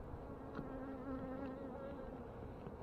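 Honey bees buzz at an opened hive during hive combining, a close, steady droning hum with faint wing-pitch wavers and no talking.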